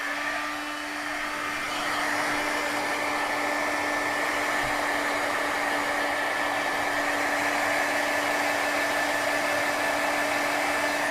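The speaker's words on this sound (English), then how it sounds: "All right, so I'm going to get out my heating tool." An embossing heat tool blows steadily while heat-setting embossing glaze on a handmade vintage steampunk card, a loud continuous whooshing fan hiss with a faint whine that rises slightly at the start and then holds even.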